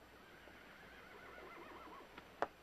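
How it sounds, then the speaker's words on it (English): A horse whinnies faintly in a quiet outdoor scene of a western TV drama, a soft drawn-out neigh followed by a few light hoof knocks near the end. "Take good care of this horse"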